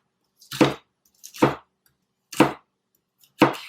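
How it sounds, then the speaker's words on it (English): A knife slices through Brussels sprouts on a cutting board in four separate crisp chops, evenly spaced about a second apart, close and clear with silence between strokes. "You're going to cut it in half. And then you're going to actually just slice it very thin."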